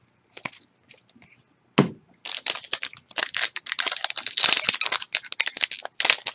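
Crinkly plastic wrapper of a Magic the Gathering booster pack being torn and crumpled by hand, with a sharp crack followed by several seconds of loud, close, irregular crinkling and rustling.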